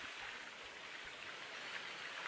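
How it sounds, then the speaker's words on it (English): Water rushes steadily from a water pump, a continuous hissing flow without pauses and no voices. "let's start up the water pump"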